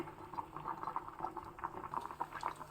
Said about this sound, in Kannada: ಒಂದು ಚಮಚ ತುಪ್ಪ ಒಂದು ಕಾಲು ಚಮಚ ಸಾಸಿವೆ ಒಂದು ಕಾಲು ಚಮಚ ಜೀರಿಗೆ ಹಾಕ್ಕೊಂಡ್ಬಿಟ್ಟು ಒಗ್ಗರಣೆ ಹಾಕ್ತಾ ಇದ್ದೀನಿ